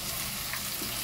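Pieces of eggplant sizzle steadily in a spiced frying pan as they are stirred, a continuous dense crackle close by.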